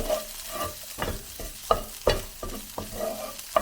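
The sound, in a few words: garlic and smoked paprika frying in a pan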